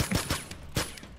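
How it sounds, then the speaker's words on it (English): A pepper ball gun called the Judge fires in a video game, a quick run of sharp popping shots in about a second, close and fairly loud, with no voices. "Is that a pepper ball gun? Yeah, this is the judge. It's a pepper gun."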